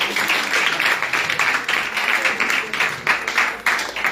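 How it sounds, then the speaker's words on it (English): An indoor audience claps in a lively, uneven burst, many hands beating with pulsing swells and small dips, moderately loud and continuous throughout. "please give yourself a round of applause."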